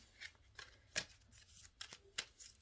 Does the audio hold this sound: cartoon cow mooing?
no